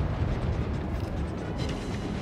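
Naval gunfire rolls in as a barrage in World of Warships, with the Cruiser III Charleston off the Solomon Islands, a dense, loud, continuous low rumble of booms and blasts blending together without clear separate hits.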